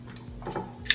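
Raw oxtails being set down in a baking pan in a home kitchen, giving a brief soft bump and light scrape that ends in a short metallic clink, close and quiet, with no talking.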